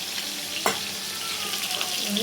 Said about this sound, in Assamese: মাছখিনি প্ৰথমে ভাজি লওঁ